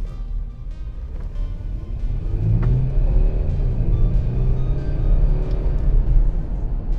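A Volkswagen Touareg with a V6 turbodiesel rated at 240 revs near at hand, its low rumble swelling and holding for several seconds before easing slightly.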